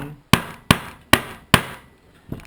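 A decapping rod on a Lee Classic Loader is tapped with a hammer to push out a spent primer: four sharp, evenly spaced knocks up close, then a fainter fifth tap, with no talking.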